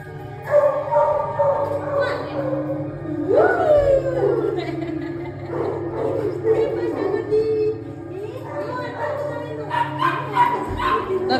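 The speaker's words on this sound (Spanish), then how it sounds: "a ver cómo reacciona el perro." Weimaraner whimpering, yipping and barking excitedly on being picked up from a dog daycare, close and loud through most of the stretch, with a person talking over it.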